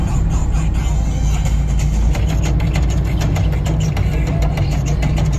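A car's engine drones steadily from inside the cabin on a road trip from Erode to Dindigul, a constant low rumble layered with road and mechanical noise, loud and continuous throughout.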